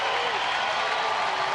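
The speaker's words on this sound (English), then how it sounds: "And the crowd is into this one." A baseball crowd at an Angels game applauds and cheers in a dense, steady wash of clapping from the stands, loud and continuous.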